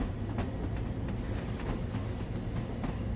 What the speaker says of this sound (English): we've got another train coming in on the left there